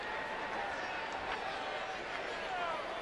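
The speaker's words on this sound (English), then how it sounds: "Very lively crowd." Lively sellout crowd at an afternoon baseball game in a stadium, a broad steady murmur and cheer filling the background beneath a commentator's voice.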